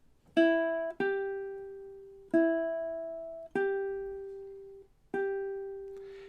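Ukulele plucking the Jamaican folk tune Day-O (The Banana Boat Song), melody B at measure 10: five clear single notes in a steady rhythm, each ringing and fading, close and alone.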